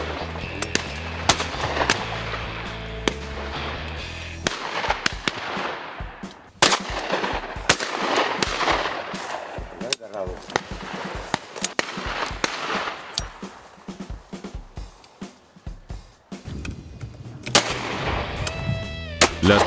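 Shotguns fire during a driven partridge hunt: sharp, loud reports ring out repeatedly at irregular intervals, some close and booming, others more distant, with brief gaps between volleys.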